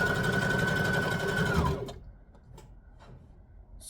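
A sewing machine stitches a lap quilt with a fast, loud, steady whir that stops abruptly about halfway through, leaving only faint ticks and clicks.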